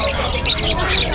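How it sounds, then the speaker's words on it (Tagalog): Many birds at a crowded pet market chirping and squawking together in a dense, continuous, loud chorus close by. "ang daming ibon dito kay Buscali mga kapatid."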